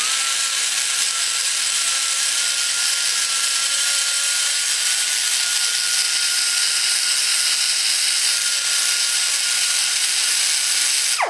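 Hand stoning smooths the carbide marks in the ports of a Chevy TBI cylinder head for a 1989-94 truck. It makes a continuous, close, even abrasive hiss that holds steady for the whole stretch with no pauses.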